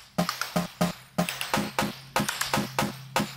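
A drum loop runs through a rhythmic chop-and-gate preset in Shaperbox, broken into tight stuttering bursts with abrupt cutoffs. The hits come in an even, loud pattern and no one speaks over them.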